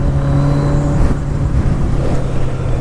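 A 1985 Kawasaki GPZ 900 R motorcycle engine holds a steady high-rpm drone, loud and close, with a strong low hum that barely changes pitch across the stretch.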